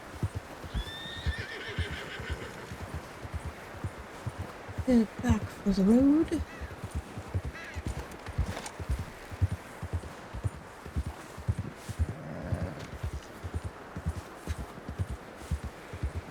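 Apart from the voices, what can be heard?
horse neighing and hooves, video game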